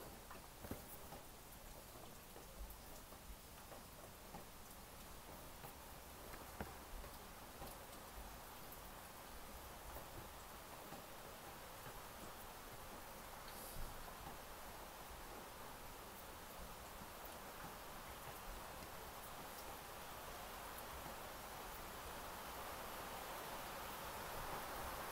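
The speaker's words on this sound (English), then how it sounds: "So there's that crazy rain in the background, if you can hear it." Steady rain hisses softly throughout, a faint continuous patter with no voices, growing slightly fuller toward the end.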